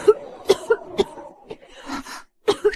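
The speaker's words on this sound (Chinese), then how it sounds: "周典的咳嗽越来越重了" A man coughs repeatedly in a heavy, worsening fit, several sharp, close bursts in an uneven rhythm separated by brief rasping breaths.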